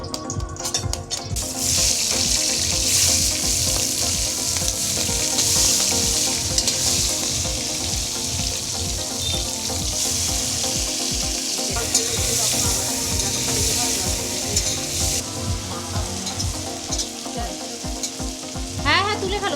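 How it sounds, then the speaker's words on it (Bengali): Prawns fry in a pan with steady, loud sizzling and crackling throughout, with occasional stirring clatter, while breakfast is cooked during a family picnic. "আর ভাজতে এবার চিংড়ি মাছ বসিয়ে নাকি?"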